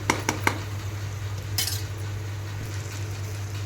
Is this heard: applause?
no